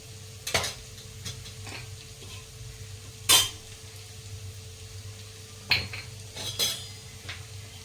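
Turmeric, red chilli and coriander-cumin powder are stirred and sautéed in a pan for dal, a soft sizzle under several sharp spoon clacks against the metal, spaced irregularly and close by, with no talking.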